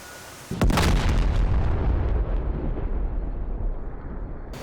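A bomb dropped from an F/A-18C Hornet in the DCS combat flight simulator detonates with one sudden heavy blast, followed by a loud, deep rolling rumble that slowly fades over several seconds.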